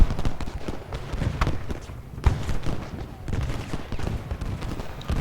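Musket volleys from infantry lines crackle in Ultimate General Gettysburg, a dense, continuous patter of distant gunfire with occasional louder reports, under a speaking voice.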